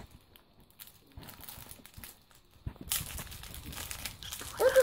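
Crinkling and tearing of a thin plastic packet being opened during a toy unboxing of a counterfeit LOL doll, quiet at first and then louder rustling toward the end, close by with no talk.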